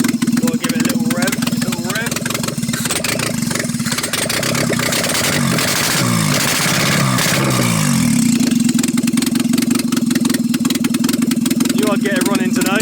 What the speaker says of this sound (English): Gotta give it a little rev.